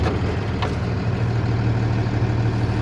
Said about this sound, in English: we need to have the chassis engine running and the parking brake set